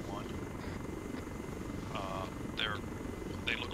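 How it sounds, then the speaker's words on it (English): Helicopters in a military video game give a steady, low rotor rumble that runs through the whole stretch, with voices talking over it at times. "They look like they're watching the helicopters"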